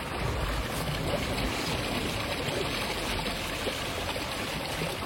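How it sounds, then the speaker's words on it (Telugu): A small stream of water flows behind houses in the village of Neuzelle, Germany, making a steady, close rushing and gurgling wash with no pauses or voices. "ఇక్కడ ఒక స్ట్రీమ్ ఆఫ్ వాటర్ పాస్ అవుతుంది"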